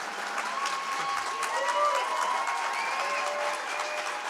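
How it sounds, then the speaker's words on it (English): Audience applause at a live gathering, a dense wash of clapping mixed with crowd chatter and voices talking over it. "Round of applause."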